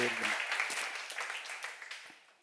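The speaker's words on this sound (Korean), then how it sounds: "박수 세게 쳐봐" Church congregation clapping at a seminar, a dense patter of hands that stays steady for a couple of seconds and fades slightly, with a brief voice at the start.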